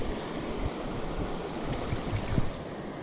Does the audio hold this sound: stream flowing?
yes